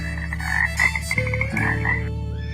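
A frog croaking in a short run of loud, raspy pulses, close up and continuous with slight pauses, alone without voices.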